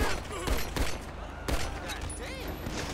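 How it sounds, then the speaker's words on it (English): Gunfire erupts in GTA 5 during a street-life mod session, several loud sharp shots punctuating a noisy scene with ricochet-like whines and game chatter underneath. "who's shooting at me"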